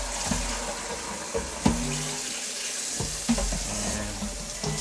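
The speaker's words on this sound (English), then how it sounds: "you just rinse it off, rinse it around" Running water pours steadily over a non-stick pan being rinsed and swirled, with a continuous close splashing rush broken by a few soft knocks of the pan.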